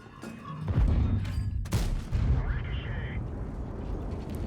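Tank gun shots in an online tank battle game, a sharp blast near the start and another loud boom midway, followed by rumbling echo, with voices talking over the gameplay.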